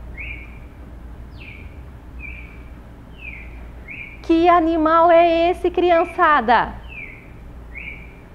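Short, high chirping calls of a small bird repeat at a steady pace in the background, with a voice speaking over them midway.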